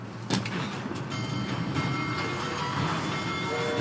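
A train in the video game Assassin's Creed Syndicate rumbles steadily and close, a continuous dense rolling roar with a sharp burst near the start, no speech over it.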